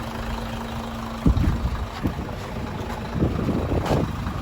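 Isuzu Forward turbo truck engine, a Japan surplus unit, idling with a steady low rumble and a faint whine, then a few louder revs toward the end, no talk.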